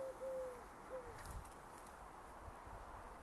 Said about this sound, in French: Voilà, il y a l'oiseau qui gueule.